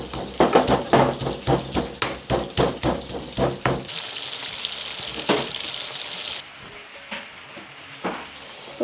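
Chicken frying over medium heat in a pan, a steady sizzle with repeated scraping stir strokes early on, then continuous crackling that later fades somewhat quieter.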